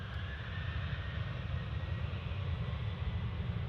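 A Ryanair airliner rolls on the runway at Manchester Airport, a faint, steady low engine rumble held evenly throughout with no voices over it.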